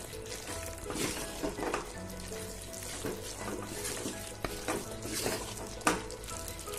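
Mutton keema frying in a pan is stirred, with a constant soft sizzle beneath repeated scraping strokes of the spoon and one sharper clack near the end.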